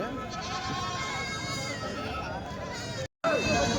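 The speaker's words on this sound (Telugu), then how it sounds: "మేకపోతులు అయితే ఉన్నాయండి" Goats and bucks bleat repeatedly with wavering cries at a livestock market in Kadiri, mixed with background chatter and other noise; the sound cuts out briefly near the end, then resumes.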